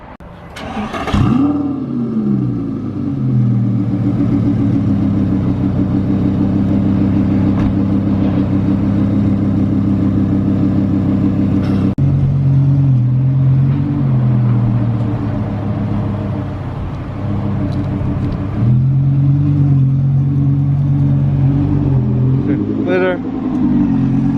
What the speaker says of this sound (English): heading out right now in the Audi R8. He's gonna do a little startup